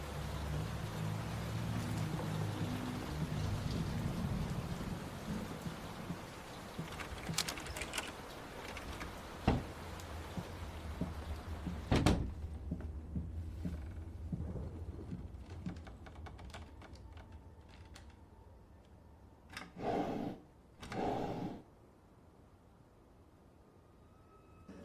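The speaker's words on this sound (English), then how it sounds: "Will this storm ever run out of rain?" Steady rain from a storm inside the Layers of Fear horror game, a dense hiss that fades over time, broken by clicking taps and a few sharp cracks, with two brief louder bursts near the end.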